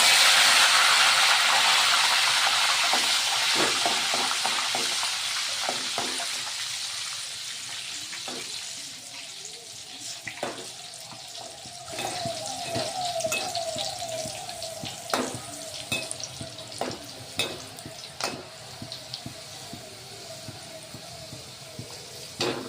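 Sambar frying in hot oil starts as a loud, dense hiss that fades over time into lighter, scattered crackles and pops.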